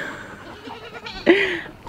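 A goat lets out a short, loud bleat near the end, after a moment of quiet background noise.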